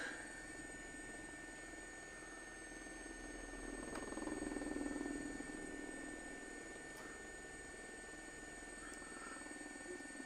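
A helicopter hovers with a steady, faint rotor and turbine drone. It swells briefly at mid-clip, then settles back to an even hum with no speech.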